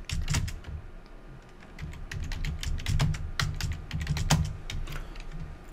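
A name being typed on a computer keyboard: close, crisp key clicks in quick irregular runs with small pauses, set over a low background hum.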